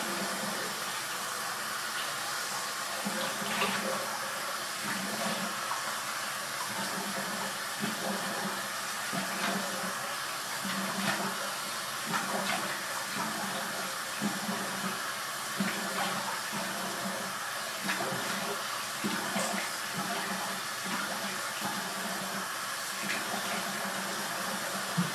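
Cold tap water runs steadily from a bathroom faucet while a man rinses his face after a shave with a Merkur Futur razor, a continuous close hiss with faint splashing throughout and no talk.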